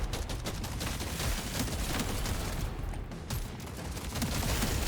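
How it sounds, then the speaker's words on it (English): Enemy gunfire in Deep Rock Galactic: Survivor rattles on without a break, a dense, loud barrage of rapid shots and impacts that holds steady for the whole stretch, with no voices. "They're shooting at me"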